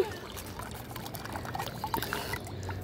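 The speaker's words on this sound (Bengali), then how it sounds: "তো গাছে পানিগুলো দিয়ে নেই" Water pours onto garden plants in a steady, splashing trickle at close range, soft and continuous with faint background noise and no speech.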